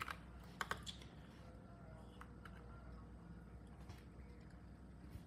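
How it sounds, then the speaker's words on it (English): Faint keystrokes on a computer keyboard come in quick little clusters over a steady low room hum, with no talking heard. "So I'm just going to type that out."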